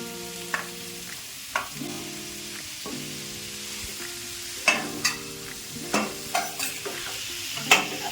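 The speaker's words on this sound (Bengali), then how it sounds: "মশলা ভাজা হয়ে গেছে, এখন আমি বাঁধাকপিগুলো যে জল শুকিয়ে রেখেছিলাম ওগুলো দিয়ে দিচ্ছি।" Cabbage frying with spices in a pan: a steady sizzle runs underneath while sharp utensil scrapes and taps come irregularly, growing busier toward the end, with no voices.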